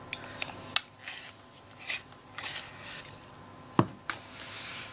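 A permanent green opaque colored pencil being sharpened gives several short, faint rasping bursts with brief pauses between turns, heard alone without talk.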